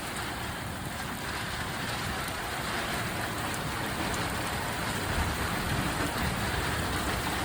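Rain pours down in Wonder Valley, California, a continuous close hiss of drops hitting the ground and nearby surfaces, slightly swelling toward the end, with no one talking.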